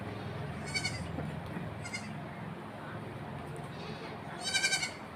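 A goat bleats several times, short wavering cries close by, the last one loudest, over a quiet outdoor background with soft voices.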